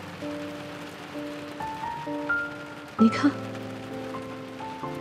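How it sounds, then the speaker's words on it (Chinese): Steady rain falls as a soft, continuous hiss beneath sustained music tones, with a brief spoken line breaking in partway. "又下雨了"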